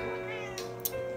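A domestic cat meows close by, giving one or two short, fairly soft meows near the end over quiet room tone and a faint background voice.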